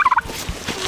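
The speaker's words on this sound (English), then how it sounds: "These quail are called Georgia Giants." Georgia Giant quail give three quick, loud, high-pitched calls in a rapid burst, followed by faint background noise.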